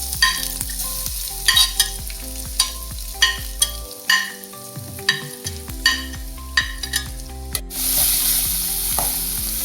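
Chopped onions sizzle steadily in a hot pan while a spoon scrapes and stirs in sharp, repeated clacks, then the frying hiss swells louder near the end; no talking.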